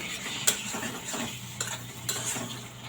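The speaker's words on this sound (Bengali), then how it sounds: "এখন টমেটোর সাথে মশলাগুলো মিশিয়ে নিব।" Spices being stirred with tomatoes in a frying pan, with a soft sizzle under repeated scraping strokes of a utensil and a few sharp clinks against the pan, close up and without speech.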